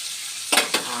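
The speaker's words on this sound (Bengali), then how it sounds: "বরবটি আলু ভাজা করছি" Yardlong beans and potatoes frying in a pan, a steady soft sizzle with two brief louder bursts of stirring near the middle, close and without talk.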